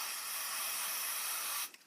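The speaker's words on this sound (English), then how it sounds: "Take your black spray paint and just kind of cover the blast." Black spray paint hisses from an aerosol can in one steady, loud burst held close, then cuts off sharply near the end, leaving a few small clicks.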